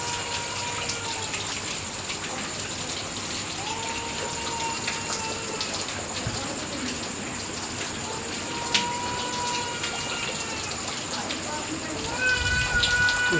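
Heavy rain at night: a steady wash of rainfall with faint background sounds and an occasional thump, continuous throughout, fairly close.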